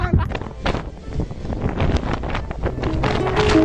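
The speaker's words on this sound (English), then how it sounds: "No good this wind, is it?" Strong wind roars and buffets the microphone in a continuous, loud rumble with gusty swells, with occasional voices faintly present underneath.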